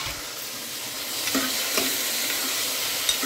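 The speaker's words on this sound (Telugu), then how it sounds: "ఇంకా టమాటాలు వేసేద్దాం." Tomatoes are added to a frying pan and stirred while cooking breakfast. A steady, close sizzle is broken by soft stirring scrapes.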